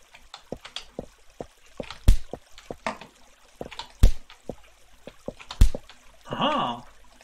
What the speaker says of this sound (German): Dass wenn da Wasser über den Blöcken drin ist, dass es dann von den Blöcken quasi so ein bisschen runtertropft.